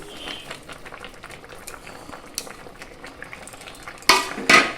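Fried vegetables being stirred into a pot of boiling sukto, a Bengali vegetable curry, with soft bubbling and faint stirring scrapes, ending in two sharp spoon clinks against the pot.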